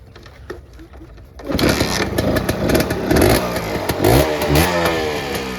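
Used Honda trail motorcycle engine of about 100 cc, offered for sale, starts up after a quiet moment and then idles and revs steadily with a loud, busy mechanical clatter close by.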